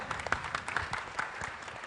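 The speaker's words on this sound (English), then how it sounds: "Give him a big clap." A panel session audience gives a short burst of faint, scattered clapping, with individual claps audible in an uneven patter rather than a full roar.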